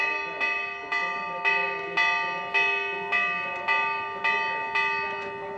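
Bell signalling the end of a chukker in a polo final, ringing in a steady series of about ten bright metallic strikes, each decaying before the next, loud and clear with faint crowd ambience beneath.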